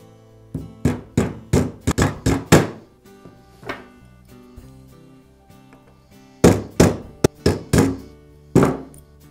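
Roll pins being tapped into the trigger valve of a DeWalt nailer with a small hammer, sharp close metallic knocks in two quick clusters of about six strikes each, with a few lighter taps between.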